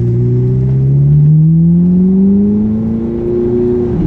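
A Ferrari engine revs loud and close, its pitch climbing smoothly over a few seconds in one continuous rising sweep, with no talking.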